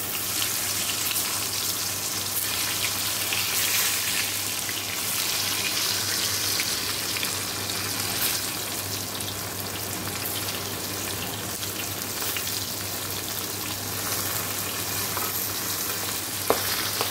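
Pointed gourd (potol) rubbed with salt and turmeric fries in oil in a wok, giving a steady close sizzle with occasional stirring scrapes and one sharp click near the end, no voices.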